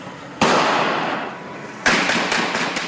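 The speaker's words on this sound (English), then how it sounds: "Then the heavy gunfire ensues, sparks in the streets. More than a dozen shots." Heavy gunfire from police and suspects in a city street: two sharp, loud cracking blasts about a second and a half apart, the second followed by a quick ragged run of further shots and echoing reports.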